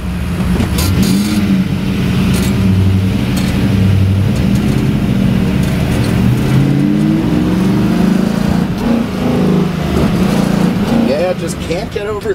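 A 1961 Ford Fairlane 500 with a Holman Moody 428 Cobra Jet V8 pulls away at half throttle, its loud, steady engine drone rising in pitch throughout, with voices talking over it.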